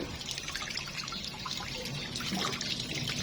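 Tap water running and splashing in a kitchen sink during dishwashing, a soft continuous trickle with small clinks and drips, fairly quiet throughout.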